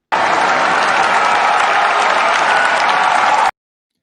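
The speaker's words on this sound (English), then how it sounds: "I'm hitting the cheer button for you there" A cheer-button sound effect plays loud, dense crowd applause and cheering for about three and a half seconds, starting and cutting off abruptly with no talk over it.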